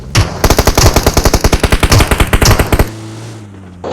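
A loud burst of rapid automatic gunfire in PUBG during a bridge fight on Erangel, fast regular shots for about two and a half seconds, then quiet.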